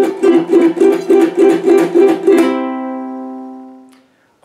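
Fast ukulele strumming pattern played as repeated triplets with the thumb and index finger, each group ending in a muted percussive click, about eight strong groups that stop and let the last chord ring out and fade, solo and close.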